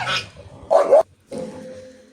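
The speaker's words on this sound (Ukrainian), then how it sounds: "О, собаки." Dogs bark nearby in short, loud bursts separated by brief pauses, with no one talking over them.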